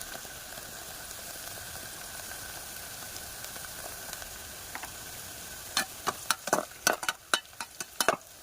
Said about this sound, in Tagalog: sunod na natin guys ang ating bawang. Ayan, sama na rin natin yung ating luya.